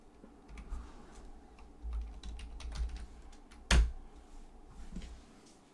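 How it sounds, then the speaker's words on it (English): Computer keyboard typing, quiet and fairly close, with irregular soft key clicks and one louder thump partway through, over a low background hum, no talking. "typing in random Romanian movies and praying"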